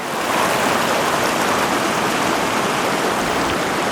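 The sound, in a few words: creek flowing out of a mountain lake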